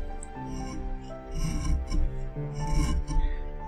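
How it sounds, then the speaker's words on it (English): A wood carving chisel scooping into wood, several short rasping scrapes in close succession, close and fairly quiet over a steady background hum. "by just pushing the back of the chisel down a little bit, you can force the chisel to come up out of the wood"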